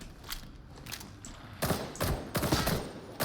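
Shredder Autopistol firing in Darktide: loud, rapid automatic bursts in several separate volleys, close and punchy, each burst a dense rattle of shots with a brief gap between.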